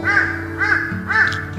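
A cartoon crow caws three times in a steady rhythm, each call loud and close with no talk over it.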